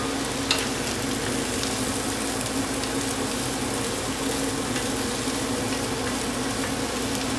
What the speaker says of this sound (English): we're gonna stir fry these